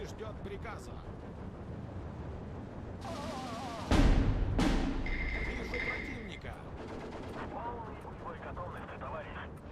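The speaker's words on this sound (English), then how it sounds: "The artillery is like landing everywhere except for where the MG is." Artillery shells land in the WW2 strategy game Steel Division 2, one heavy boom booming out midway over constant battlefield noise and gunfire, with someone talking throughout.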